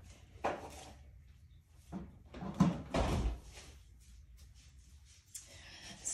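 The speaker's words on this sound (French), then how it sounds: "attendez, je vais fermer la porte" A door is pushed shut indoors, with a wooden knock and a rattle followed by a firmer thud as it closes, heard close and moderately loud, with a faint click after a quiet pause.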